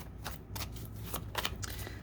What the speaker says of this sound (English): Let's go ahead and see 2 more shuffles here